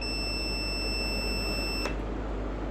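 A Meco 27T digital multimeter gives a steady, clear continuity-test beep lasting just under two seconds, which then cuts off abruptly, leaving only a faint background hum.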